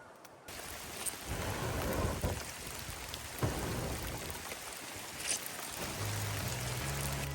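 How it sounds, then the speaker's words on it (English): Steady rain falls in the Everglades, a dense, even hiss that runs through the whole stretch, with a few louder swells and a low rumble near the end. "It's day 3, the rain is falling."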